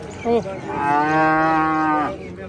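A dairy cow at a livestock market lets out one long, loud, sustained moo of about a second and a half, preceded by a brief short grunt, with no talk.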